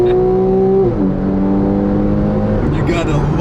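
A 2012 Porsche 911 Carrera S accelerates on kickdown, its loud nearby engine note dropping as the transmission shifts down, then pulling steadily with another gear change near the end, heard from inside with some voice underneath.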